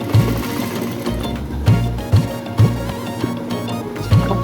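Sewing machine stitching a tote bag, a steady mechanical whirring with rhythmic needle thumps running continuously and close.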